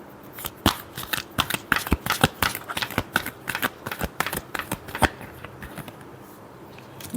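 Tarot cards shuffled by hand in a quick run of crisp riffling snaps and flutters, close and fairly loud, easing off toward the end with no talking.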